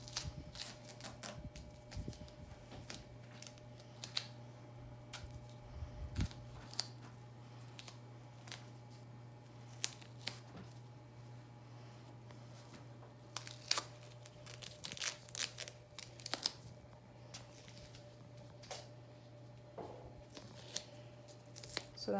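Medical tape is handled while securing a wound dressing, with scattered crinkling, tearing and snipping noises spread through the clip, fairly close and soft, over a steady low hum with no talking.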